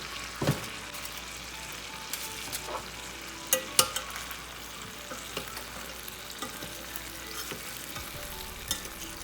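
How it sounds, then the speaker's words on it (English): Steady crackling sizzle of food frying in a hot pan, with a few sharp clicks and stirring knocks standing out now and then. "Listen to that sizzle,"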